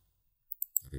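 Three quick, faint computer keyboard clicks for a save and refresh, then a voice begins speaking.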